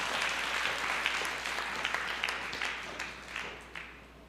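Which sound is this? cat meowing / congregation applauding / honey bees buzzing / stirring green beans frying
congregation applauding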